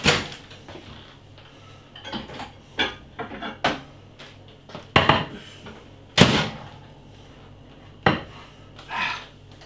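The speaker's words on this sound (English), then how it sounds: "Let's get the sides out the microwave." Close, loud clatter of dishes holding leftover Chinese side dishes being lifted out of a microwave, with sharp knocks, a bang or two and ceramic clinks spread irregularly over about ten seconds, no talking.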